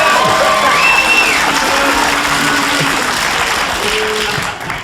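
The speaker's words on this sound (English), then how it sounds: "They were women booing" An audience of women booing, a loud, steady mass of crowd voices with scattered higher shouts and whoops that holds for several seconds before tapering slightly at the end.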